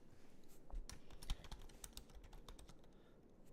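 Rapid, irregular clicking of keys on a computer keyboard, close and fairly quiet, running steadily for a few seconds with no voices.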